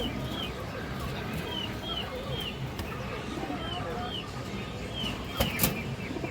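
A black female Bagha pigeon coos faintly amid a busy, noisy background of other birds and rustling, with short soft calls repeating throughout.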